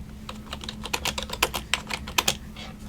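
Quick, light keystrokes on a computer keyboard at a library desk, soft and close, clicking in short irregular bursts over a faint low hum.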